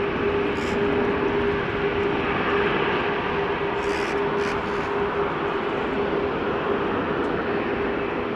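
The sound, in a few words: business jet landing on runway at Amsterdam Schiphol Airport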